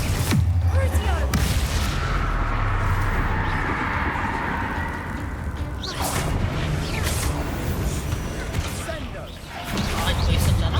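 Spells firing in a Hogwarts Legacy battle: dense blasts, crashes and magical whooshes pile up loudly and continuously, with a player shouting incantations over the din.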